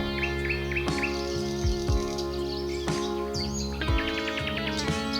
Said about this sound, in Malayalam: തൊട്ടപ്പുറത്ത് കുറെ തത്തകൾ ഉണ്ടായിരുന്നു.